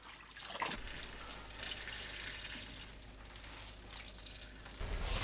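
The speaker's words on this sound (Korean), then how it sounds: "찬물에 2~3번 흔들어 헹궈내고 물 짜서 준비해주세요." Blanched spinach is swished and rinsed in cold water at a sink, a steady close splashing and running-water wash that swells and eases in waves across the few seconds, with no voices.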